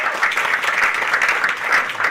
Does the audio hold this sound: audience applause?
yes